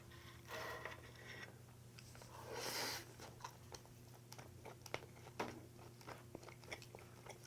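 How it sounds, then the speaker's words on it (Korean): Someone eats a mouthful of slightly firm, chewy cooked rice at a rooftop home meal, with close, quiet chewing and soft crunchy bites, a brief rustle, and a steady background hum; no talking. "일단 밥부터 한번 먹어볼게요"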